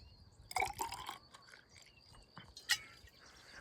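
Water poured into a gold electrolysis solution: soft splashing and trickling with a few small bright drips, faint and close over a low background hum.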